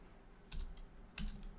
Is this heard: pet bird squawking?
no